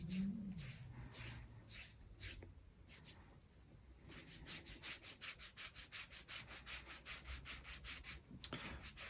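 Sponge rubbed up and down a leather strap while conditioning it, giving a steady rhythmic scrubbing that builds into even strokes, close and fairly soft with no talking.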